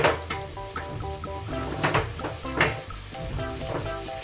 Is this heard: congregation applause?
no